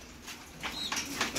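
A racing pigeon flaps its wings in a few soft, quick bursts that grow slightly stronger toward the end, faint against a quiet background.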